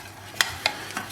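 Diced onions stirred in a pan for a sauce, giving three quick scraping strokes over a faint sizzle, close and fairly quiet.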